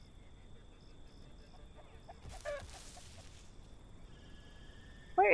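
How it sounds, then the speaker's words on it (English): A chicken-like creature in the survival game The Isle Evrima gives faint, brief clucking calls against quiet ambience, with a louder call right at the end. "Where is this chicken?"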